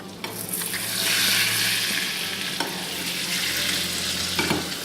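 Cinnamon buns frying in a pan give a steady, moderate hiss of sizzling oil with a few brief scraping stirs, close by and without voices.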